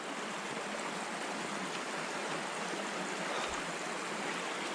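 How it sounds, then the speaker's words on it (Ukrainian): Small mountain river stream flowing on a rainy forest hillside, a steady broadband rush of water running continuously and fairly close throughout, with no voices. "Все, що залишилось від річки, така маленька, бачите."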